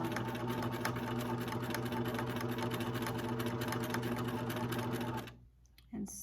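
A sewing machine stitches an eye mask in a steady, fast, buzzing run of stitches for about five seconds, then stops abruptly and leaves near quiet.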